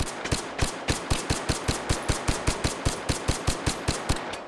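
Rapid string of suppressed pistol shots from an integrally suppressed handgun in the VR shooter Hot Dogs, Horseshoes & Hand Grenades, about twenty evenly spaced, punchy reports fired in quick succession at steady volume with no talking.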